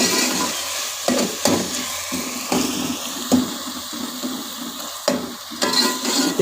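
Green chillies and garlic paste frying in a pan, giving a steady loud sizzle broken by repeated scraping stirs at irregular intervals, with no talk.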